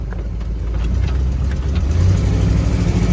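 A 1970 Oldsmobile Cutlass 442 tribute cruising along, its engine a steady, loud low rumble that holds evenly throughout with no talk.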